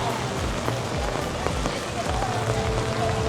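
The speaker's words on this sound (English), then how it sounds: "we're getting hit by rain" Rain pouring down at the Islands of Adventure theme park near Toon Lagoon, a dense steady patter on surfaces with scattered heavier drips, continuous and moderately faint throughout.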